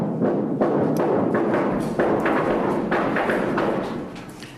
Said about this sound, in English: our cameras were rolling 200 yards away when his explosives finally detonated